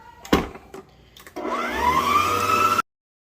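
An electric mixer whirs into cake batter with butter and eggs after a couple of knocks against the bowl, running steadily up to speed for about a second and a half before stopping abruptly.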